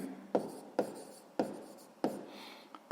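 Close, quiet scratching of a pen writing digits by hand for a sixth-grade arithmetic answer, with four or five brisk strokes and short pauses between them.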